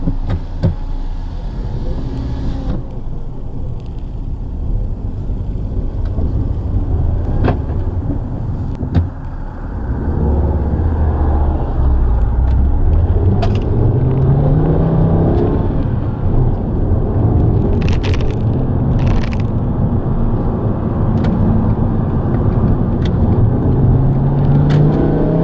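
A 2007 Volkswagen Rabbit with the 2.5 five-cylinder and five-speed manual out on a test drive: a steady engine drone, with revs rising through the gears and a couple of rising sweeps, under constant road noise and no talk.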